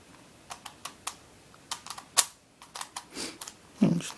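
A CubeTwist B345 bandaged 5x5 puzzle cube is turned with corner cutting, giving a run of quick plastic clicks and clacks. Several sharper snaps stand out, and a heavier rattle comes near the end, close and alone.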